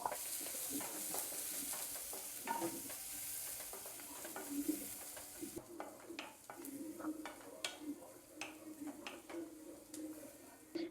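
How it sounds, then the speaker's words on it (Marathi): Chopped onion and chilli fry in a pan over a high gas flame, a continuous sizzle overlaid with frequent scraping stirs and light clicks from a spoon. "आता मी ह्यामध्ये टाकते कांदा."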